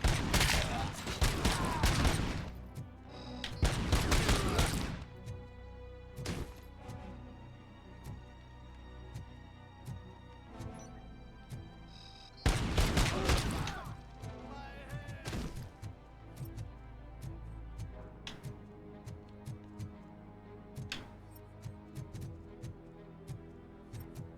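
Bursts of gunfire crash out in loud, dense volleys, with heavy clusters at the start and again midway, separated by quieter stretches of scattered thuds and impacts.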